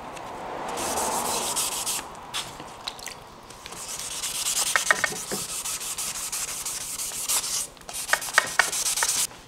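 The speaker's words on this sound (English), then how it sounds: "I've got some 1000 grit, so I'm just going to wet sand with this" Epoxy putty patching a chip in a fencing foil is wet sanded with 1000 grit sandpaper. The close, steady rubbing strokes come and go with brief pauses and light scratchy ticks.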